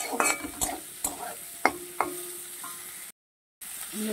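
Onions frying in a modest amount of oil in a pan over medium heat, a faint sizzle under irregular scraping taps of a spatula stirring, then a brief silence before the frying resumes.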